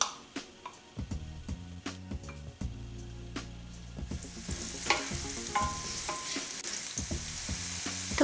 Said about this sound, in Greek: αδειάζουμε μέσα το λάδι, το κρεμμύδι και θα το σοτάρουμε για μισό λεπτό